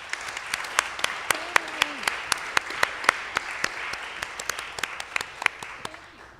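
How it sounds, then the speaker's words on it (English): An audience at an academic talk on Islamic liturgy breaks into steady applause, a dense, even patter of many hands clapping close by that carries on for several seconds with no talk over it. "let's give them a round of applause"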